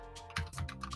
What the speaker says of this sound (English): Excuse my typing. I'm in a hurry.